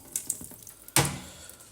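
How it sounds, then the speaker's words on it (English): A pull-out kitchen sink tap is turned on after a few faint clicks, and water gushes out up close, steady and fairly loud, with nobody speaking. "we decided on a fancy sink, one of these sinks that's got a pull-out tap and waterfalls"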